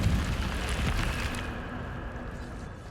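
The Incendio fire spell is cast in Hogwarts Legacy, a roaring whoosh of flame that swells loudly and then fades into a softer rushing hiss, with no talk over it.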